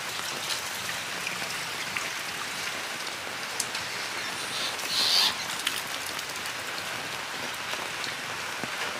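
Steady rain pattering densely on a surface, an even hiss of drops throughout, with a faint bird call briefly in the background.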